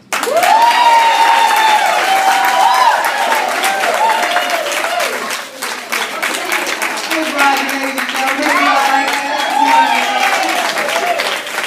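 Applause and cheering from an audience at a Lanier student poetry performance, a loud, steady wash of clapping with shouts and voices rising through it for over ten seconds.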